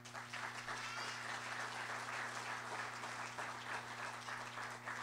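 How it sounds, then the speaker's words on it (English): Steady applause from a large audience at a college athletics hall of fame ceremony fills the room, even and sustained throughout, with a faint constant hum underneath. "we give a nice round of applause for President Hillary Link."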